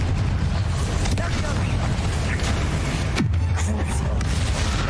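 Spell blasts in the Hogwarts Legacy video game, a dense, continuous rumble of game combat with a deep booming swell near the three-second mark, loud and steady throughout with no clear gaps.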